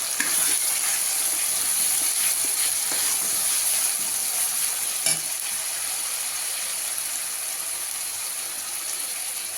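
Spinach hisses and sizzles steadily in a hot frying pan, a close continuous crackle with an occasional stir, fading slightly toward the end.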